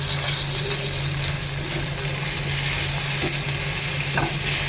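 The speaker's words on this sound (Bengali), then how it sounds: "চিংড়ি মাছ ভাজা হয়ে গেছে, এখন দিয়ে দিচ্ছি কয়েকটা ধনিয়া পাতা।" Shrimp frying in a pan, giving a steady, loud sizzle with occasional stirring scrapes, close up and continuous with no talking.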